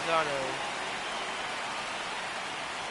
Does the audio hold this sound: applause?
no